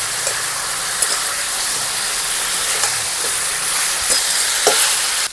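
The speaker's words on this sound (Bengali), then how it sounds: "এখন আর আদুনি বাটা আর আদা বাটাটা দিয়ে দেবো শুক্তোতে টেস্ট আসবে রাঁধুনি বাটাটাই দিলে ভালো করে মিশিয়ে নেবো" Vegetables for sukto fry with radhuni paste and ginger paste, a loud, continuous close sizzle and hiss with scattered scraping stirs and small pops, steady throughout with no voices.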